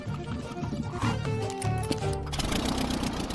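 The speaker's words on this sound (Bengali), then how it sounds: "এর আওয়াজটা লন মোভার ইঞ্জিনের মতো কেন?" A cheap small plane's engine drones loudly and steadily with a buzzy, rattling tone much like a lawn mower, filling the whole stretch without pause.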